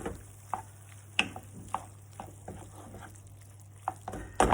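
A spoon stirs a thick chicken, bacon and mushroom sauce in a pan just taken off the heat. Soft scraping strokes and light clicks come at an irregular rhythm over a faint, quiet sizzle.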